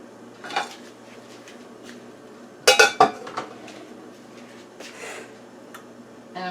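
The back of a serving spoon presses graham cracker crumbs into a dish for a cheesecake crust. Quiet scraping is broken by a brief cluster of loud clinks and clatters near the middle, with a few softer knocks before and after.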